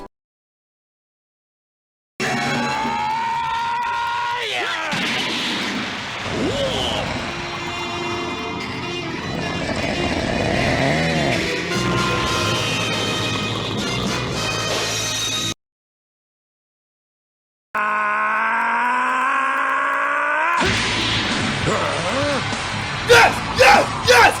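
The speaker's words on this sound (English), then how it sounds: "hearing this hard rock soundtrack, playing over top Goku screaming" A hard rock soundtrack from a Dragon Ball movie plays loud and driving over Goku's sustained screaming, then cuts out briefly before the rock and yelling return at full volume.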